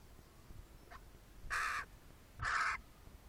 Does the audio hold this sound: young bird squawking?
yes